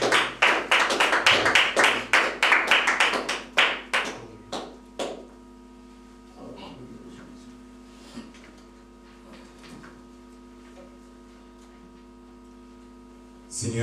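A church congregation claps together to acclaim the Lord, a run of loud, fast, fairly even hand claps that slows into scattered claps before fading under a low steady hum of the hall.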